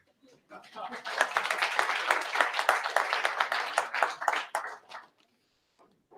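Audience applause at a livestreamed startup pitch event, a dense burst of many hands clapping that swells in quickly, holds steady for a few seconds and then tapers off to near silence.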